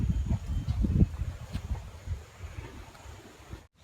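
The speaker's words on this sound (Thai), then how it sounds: "ลมพัด" Cold wind blows in an outdoor spot where noodle soup is being eaten, a steady low rumbling gust with buffeting against the microphone, loud at first and easing slightly before cutting off near the end.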